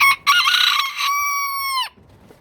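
A pet hen gives a loud, close burst of squawking clucks followed by a drawn-out, rising crow-like call that cuts off abruptly, heard alone indoors with no talking.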